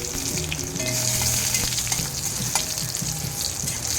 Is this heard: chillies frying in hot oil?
yes